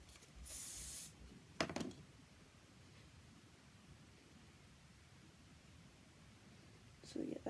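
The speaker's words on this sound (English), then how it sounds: "just so you're like spraying them as you go" Hairspray misted onto pin curls on straight hair: a short steady aerosol hiss near the start, then a second burst later, faint and close, with soft handling noise between.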